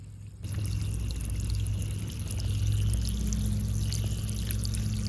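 Water is poured steadily onto a rhododendron in a garden, a continuous close splashing and trickling stream that starts abruptly and runs on without talk.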